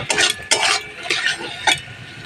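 Mustard paste and turmeric being stirred in a pan: four brisk scraping strokes against the metal, close and distinct, with quiet gaps between them.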